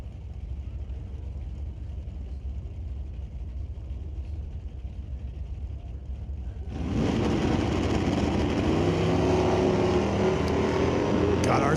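Drag racing cars at an NHRA Division 6 ET Finals event at Mission Raceway Park: a low distant engine rumble, then a sudden loud surge as the cars launch down the strip and roar on.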